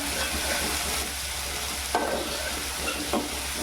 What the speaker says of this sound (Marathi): कांदा आता आपल्याला कलर चेंज होत तोपर्यंत शिजवायचं आहे